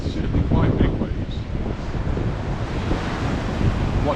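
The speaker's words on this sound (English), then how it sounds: "It's certainly quite big waves." Big ocean waves rolling in at Cala Major, a steady churning surf roar mixed with heavy wind buffeting the microphone, loud and continuous throughout.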